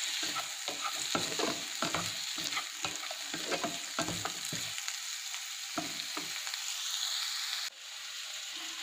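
Maggi masala pasta stirred and fried in a pan, with steady sizzling and repeated close scraping strokes of a spoon, the stirring easing off toward the end while the sizzle carries on alone.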